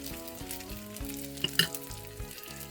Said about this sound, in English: now this has been frying for a minute